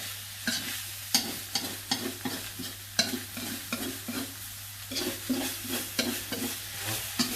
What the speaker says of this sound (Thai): ผัดให้หน่อไม้เปรี้ยวมันสุกนะครับ